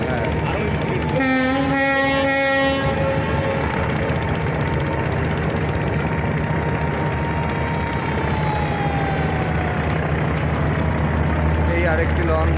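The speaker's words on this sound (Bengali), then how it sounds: "এই আরেকটি লঞ্চ বেরোচ্ছে।" Passenger river launch pulling away from a launch ghat in Bangladesh, a deep steady engine drone with blaring horn blasts near the start and more tonal hooting later, as people talk nearby.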